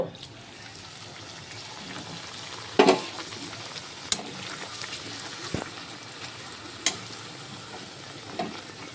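Puffed dough pieces fry in well-heated oil with a steady, close sizzle, broken by a few sharp clinks and scrapes of a utensil at irregular moments.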